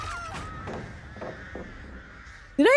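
Crows caw in a video game, a few harsh calls spaced across the stretch before a sudden loud, close squawk cuts in at the end.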